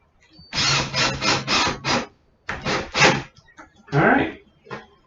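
A power drill drives screws to hang a cabinet door, with several loud close bursts of whirring motor and short pauses between them, plus a scrape near the end.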